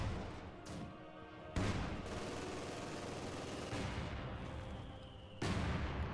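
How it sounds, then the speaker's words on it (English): Dense machine gun bursts from an MG42 and a captured Maxim in the strategy game Company of Heroes 2, rattling continuously and loudly with brief pauses and renewed volleys, no voices over the gunfire. "MG42 getting some shots off on the stolen Maxim machine gun"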